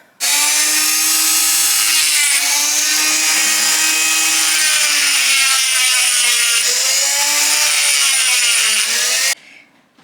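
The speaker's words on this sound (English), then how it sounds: "If you're using a dremel, don't stick too much in one place or too much grinding" A Dremel rotary tool grinds an extruder gear from a 3D printer, giving a loud, steady high-pitched whine that lasts about nine seconds with slight shifts in pitch as the load changes, then cuts off abruptly.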